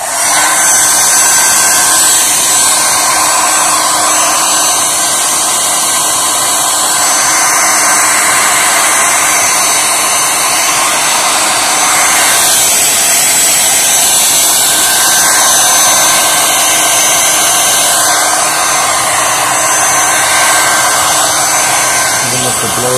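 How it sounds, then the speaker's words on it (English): A hair dryer on hot blows continuously and loudly at close range while removing decals from a Micargi stretch bike, a steady high whirring rush of air that barely changes throughout. "Then I'm gonna hit them with the hot blow dryer."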